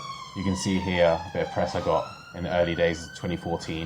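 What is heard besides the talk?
sirens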